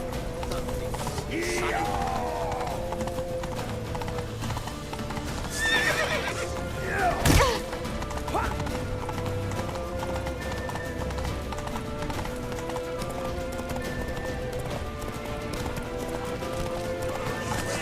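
A horse neighs with a sharp whinny midway while galloping hooves clip-clop steadily throughout, set in a theatrical scene.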